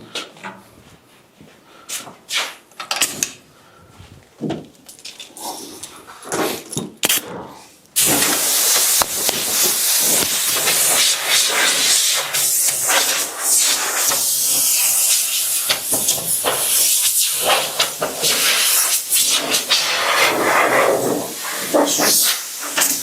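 Compressed air blows dust off a mid-century modern wooden credenza being refinished. A few short, quieter bursts come first, then a loud, sustained hiss runs without a break from about eight seconds to the end.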